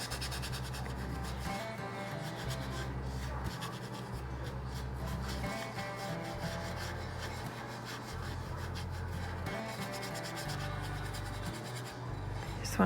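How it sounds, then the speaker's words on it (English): Thrifted wooden farmhouse decor gets a finish scrubbed and rubbed into its surface, a steady, continuous close-up rasp that runs the whole time over a dense, full background bed. "Just want to really just kind of scrub that in."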